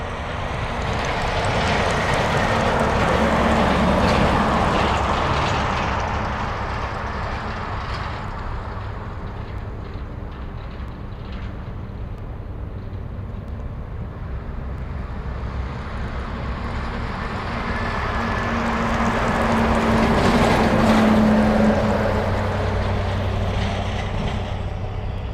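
A Beechcraft 1900 turboprop arriving at Anchorage airport swells into a loud propeller and engine drone, fades to a lower roar through the middle, then builds again toward the end, with wind noise throughout.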